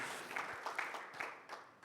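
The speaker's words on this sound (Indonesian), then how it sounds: "Tepuk tangan buat Tuhan Yesus Bapak Ibu" A church congregation at Sunday worship claps together, a faint, brief burst of scattered hand claps in a large room.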